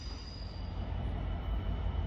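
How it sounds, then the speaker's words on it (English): A train rumbling through Northampton station, a steady low-pitched roll of wheels on rails with a faint high squeal, fairly close and loud throughout, no talking. "I'm filming the train."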